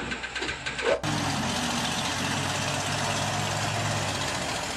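A Mega MS 34 heavy-duty dredger with a 400-horsepower engine runs in a steady, loud, low diesel drone that cuts in abruptly after a second of quieter mixed noise.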